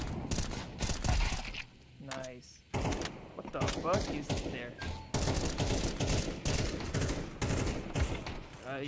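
Rapid gunfire and bursts of shots crackle through a round of Counter-Strike 2, dense and continuous, while players talk over the action.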